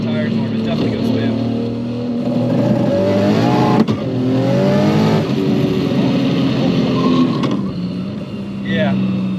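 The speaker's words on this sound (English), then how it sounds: "I'm gonna do a little bit of second gear, just get the tires warm. It's definitely gonna spin." A 1200-horsepower Barra-swapped Mustang accelerates hard in second gear with its tires spinning, the engine note climbing loud and close for several seconds before easing off, while people talk over it.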